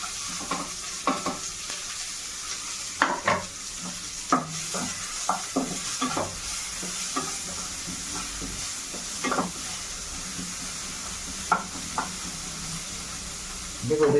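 Chopped onion sizzling in a pan, with repeated scraping stirs of a spatula at irregular intervals over a steady frying hiss.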